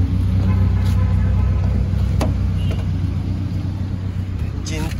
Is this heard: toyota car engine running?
yes